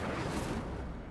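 An Incendio fire spell blasts in a wizard video game, a dense, roaring burst of flame that fills the whole short moment loudly and fades slightly at the end.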